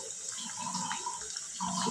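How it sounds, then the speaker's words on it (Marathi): Sliced sweet potatoes bubble in frying oil with a continuous, moderately quiet sizzle. The hiss holds steady throughout and swells slightly toward the close, with no speech over it. "बघू शकता इथं बुडबुडे आलेले आहेत रताळ्याच्या कापांना"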